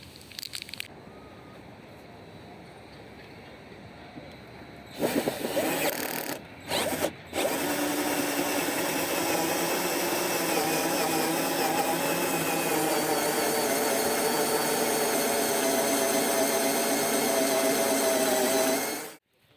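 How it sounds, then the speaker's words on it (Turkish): A cordless drill whirs loudly and steadily for a long stretch after a few short bursts, the motor straining as it bores into a car bumper up close, fitting a parking sensor. "Hemen şarjıya takarak delme işlemine başlıyorum."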